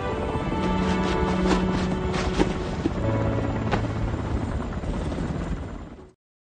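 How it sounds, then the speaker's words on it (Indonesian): A helicopter's loud continuous rotor roar fills the scene with a few bangs mixed in, then cuts off abruptly to silence. "Kemudian helikopter pun mencari tempat untuk menurunkan Hong yang dekat dengan sisi goa bukit"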